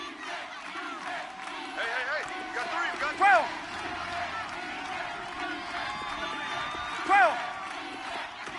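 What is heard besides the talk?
crowd cheering in an American football video game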